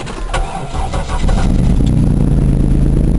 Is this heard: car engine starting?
yes